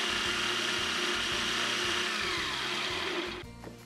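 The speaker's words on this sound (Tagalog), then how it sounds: "Paraanin o dikdikin ng graham crackers hanggang sa maging pino" Graham crackers are crushed to a fine crumb in a blender with a loud, steady whir whose rhythm pulses evenly, and the motor winds down near the end.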